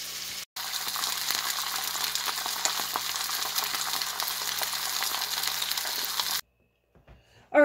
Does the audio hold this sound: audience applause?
no